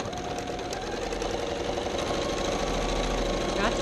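Steady whirring hum of a sewing machine stitching nested seams on a charm pack quilt, close and continuous throughout.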